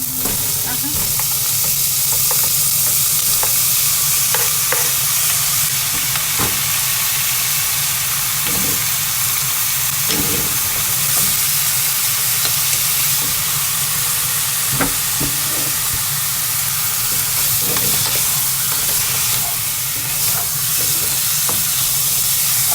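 Chicken frying in a pan makes a loud, continuous sizzle and hiss close by, with occasional scraping stirs breaking through the steady crackle.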